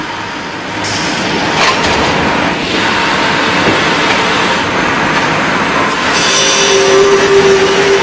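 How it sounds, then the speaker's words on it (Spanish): Circular saws squaring particle boards in a board factory, a continuous loud industrial rumble and whine of machinery with clattering, a tonal saw note rising toward the end. "Unos empujadores acercan los tableros a unas sierras circulares para escuadrar el"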